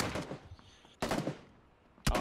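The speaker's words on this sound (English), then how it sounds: "Oh, they're shooting each other." Gunfire between players in the video game PUBG: bursts of shots at a distance, one round of fire at the start, then a sharp loud burst at one second and another near the end, with quiet gaps between.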